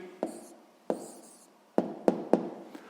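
An answer being written down by hand for a sixth-grade math exercise, heard as a few sharp, close taps and short scratchy strokes spaced irregularly, with quiet between them and no voices.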